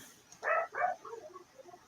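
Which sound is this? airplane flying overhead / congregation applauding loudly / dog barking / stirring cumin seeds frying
dog barking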